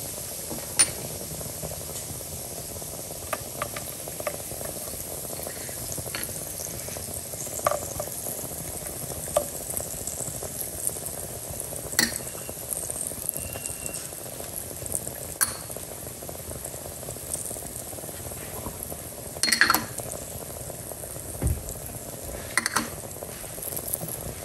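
Ground beef with flour and spices cooks in a pan, giving a soft, steady sizzle and bubbling, broken by occasional scraping and clinks of a utensil against the pan.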